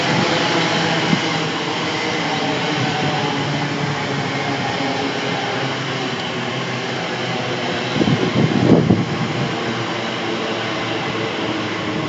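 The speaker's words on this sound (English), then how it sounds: "incoming in here is the 1528 service from London Paddington to Reading" The 1528 London Paddington to Reading service, unit 345016, pulls into Southall station on the Great Western Main Line. It makes a loud, steady rumble and hiss throughout, with a brief rise in low rumble near the end.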